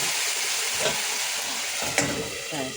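A small splash of water hits taro cooking in a hot pot, setting off a steady loud sizzle and hiss, with a brief knock near the end as the pot is covered.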